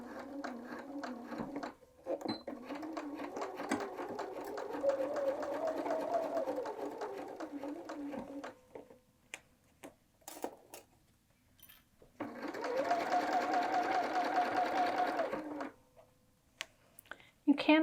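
A sewing machine stitches the turned-under binding edge down through a quilted jacket hood, running in two sustained, rapid bursts separated by a quiet pause, with light clicks between runs.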